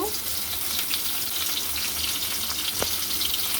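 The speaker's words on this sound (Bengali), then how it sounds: "এগুলোকে এখন ভেজে নিতে হবে" Onion and garlic fry in a karai after fish has been fried in it, making a steady, close, hissing sizzle that carries on without pause and with no talking.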